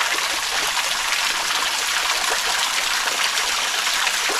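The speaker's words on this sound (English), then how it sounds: "There's a few like 1 foot high waterfalls that cascades down where I take my water." A river at Fairlight Glen tumbles over small waterfalls about a foot high, making a steady, full rushing and splashing roar, close and continuous throughout with no voices.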